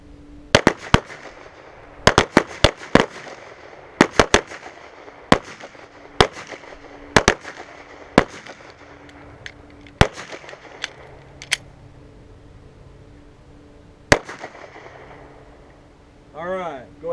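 Pistol shots at a shooting range during a defensive pistol drill, sharp loud cracks in pairs and triples from several shooters over about fifteen seconds, with a voice briefly at the end.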